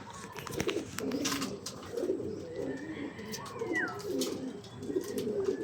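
Several pigeons coo in low, throaty bursts throughout during a racing-pigeon training release in Antipolo, Rizal, with scattered chirps and faint ambient noise, no talk.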